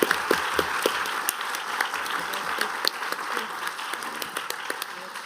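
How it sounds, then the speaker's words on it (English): An audience applauds panelists steadily for several seconds at a conference, a dense patter of many hands clapping together at moderate loudness. "give a final warm round of applause to our panelists for their wonderful contributions"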